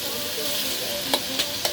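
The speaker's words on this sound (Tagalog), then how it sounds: "Piprito ako ng tilapia." Tilapia fries in hot oil, giving a steady close sizzle with three quick scraping clicks near the end, likely from a spatula against the pan.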